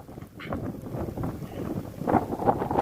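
Strong wind gusts over small water sprinklers in a chilli seedling nursery bed, a steady rushing roar with louder buffeting toward the end, close to the microphone.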